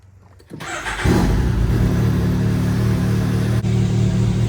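A Can-Am Turbo RR side-by-side engine cranks and fires after a short quiet start, then settles into a loud, steady, close rumbling idle that holds until the end.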